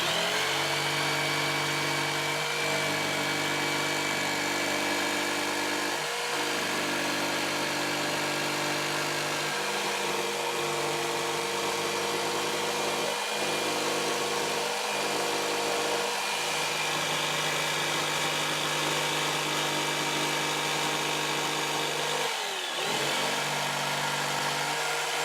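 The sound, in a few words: jigsaw cutting a hole in a clamped wooden workpiece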